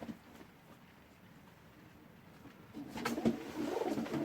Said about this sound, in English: Again, another 2021 pigeon, and she's also out of the Dutch import barless cock